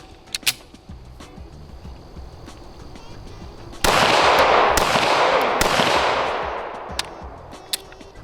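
Shadow Systems CR920XP pistol firing 115 grain rounds at a range, a few sharp reports echoing loudly, with a burst of several close shots mid-way and fainter distant shots around them.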